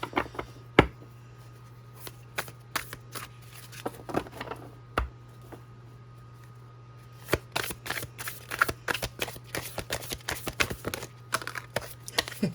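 Tarot cards being shuffled, sparse snaps early giving way to dense, rapid riffling and flicking close up, over a steady low hum.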